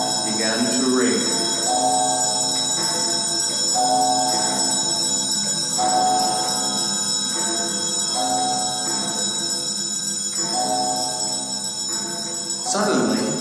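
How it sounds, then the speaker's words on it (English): Bells sound throughout a house in a tonal, sustained ringing that swells and fades in repeated waves over several seconds. A voice speaks over part of it. "gradually, all of the bells of the entire house began to ring."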